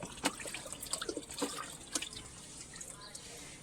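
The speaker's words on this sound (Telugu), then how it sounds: "ఇప్పుడు ఈ చెట్టుకు కూడా మనం వాటర్ వేద్దాం" Water poured from a container onto a flowering potted plant, spattering and dripping in short irregular bursts, fairly faint and close, fading toward the end.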